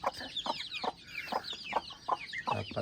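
Rhode Island Red chickens cluck in a run of short, fairly quiet, evenly spaced calls on a farm, one after another, with no talking.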